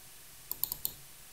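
Quick mouse clicks in SolidWorks CAD software, a tight pair of sharp ticks followed by two more, close and fairly faint against quiet room tone.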